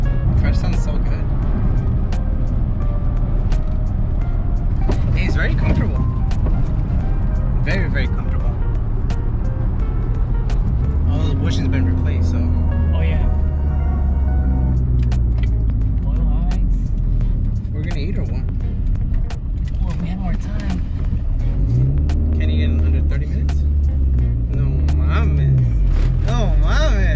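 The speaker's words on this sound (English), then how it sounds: "Car sounds so good." A 1994 Honda Accord EX engine hums steadily from inside the cabin while driving, with pitch shifts as it accelerates and people chatting over it.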